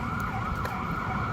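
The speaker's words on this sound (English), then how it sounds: "Police sirens are rolling." Police sirens wail steadily in a continuous, sweeping tone that fills the whole moment without a break, with no voices over it.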